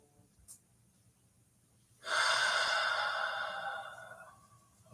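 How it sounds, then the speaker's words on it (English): A single deep breath drawn in and let out slowly during a guided morning meditation, close and soft against a quiet room. "Take a few deep breaths."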